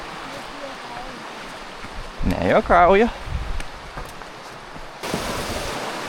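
A river flowing beneath a footbridge on the Kungsleden trail during light rain: a steady, broad rush of water throughout, briefly under a short spoken exchange, then swelling louder near the end.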